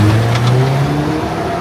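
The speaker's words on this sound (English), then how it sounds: "you can hear the turbo spool up once you push it" A 2024 Toyota Tacoma TRD Pro's turbocharged engine revs steadily under load as the turbo spools, giving a loud, close, continuous drone with rising tonal bands and no talking.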